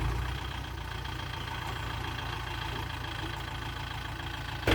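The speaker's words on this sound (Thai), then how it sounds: "รถไถรู้สึกว่ามันขับง่ายดีอ่ะ" A farm tractor engine runs at a steady idle-like rumble while ridging a field, loud, continuous and unchanging for the whole stretch with no talk over it.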